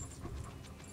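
A dog pants in a scene from the Fallout series, quick rhythmic breaths that are quiet and close and last only a moment.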